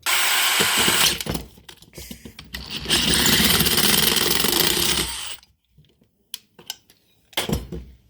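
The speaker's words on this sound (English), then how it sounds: "we're just going to drill this hole out just a hair more" A power drill whirs loudly, enlarging a bolt hole in metal on a Ford NAA Jubilee tractor, in two sustained bursts with a brief pause, then stops, followed by scattered clinks and handling noises.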